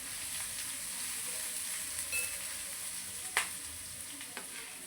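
Chili, ginger and garlic paste fries and is stirred in a pan for palak paneer, a continuous soft sizzle broken by a few sharp clicks and scrapes from the spoon, with no talking.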